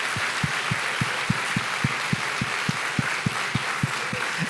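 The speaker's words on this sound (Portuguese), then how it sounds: "dar uma salva de palmas para o povo brasileiro" An audience claps in a steady, even rhythm at a gathering honouring the Brazilian people, the beats evenly spaced over a dense bed of scattered applause, loud and sustained throughout.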